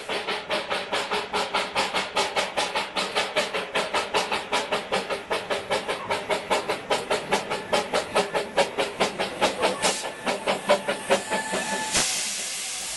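An 1889 Sharp Stewart steam locomotive of the Darjeeling Himalayan Railway in India chuffs in a steady, quickening rhythm of loud exhaust beats with hissing steam, ending in a sustained release of steam.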